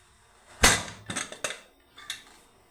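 A pressure cooker holding khichdi is opened after whistling, giving a sharp metallic clank followed by several lighter scrapes and knocks of the lid, close and fairly loud against a quiet background.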